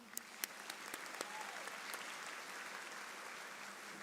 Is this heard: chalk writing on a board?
no